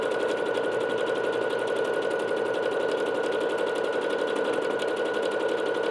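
A Bernette B-77 sewing machine stitches steadily at speed, with a continuous rapid mechanical hum and a fast needle rhythm, loud and close without a break.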